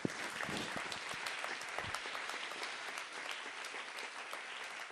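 A conference audience applauds its guests in a steady, full round of clapping from many hands, continuous and moderately loud throughout, with no voices over it.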